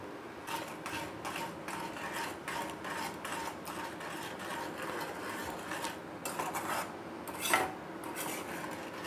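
A thick ginger and sugar mixture for aale pak being stirred in a pan over low gas, with rhythmic rasping scrapes of the spoon against the pan bottom, fairly quiet and continuous.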